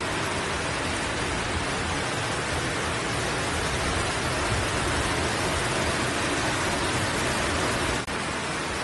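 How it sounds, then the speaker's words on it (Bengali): Heavy rain driven by strong wind during a road trip in Sri Lanka, a dense, unbroken roar of rushing water and gusts filling the whole stretch at constant loudness. "বৃষ্টির তেজ বেড়েই চলল, সাথে ভীষণ জোর হাওয়া, যাকে বলে রীতিমতো ঝড়।"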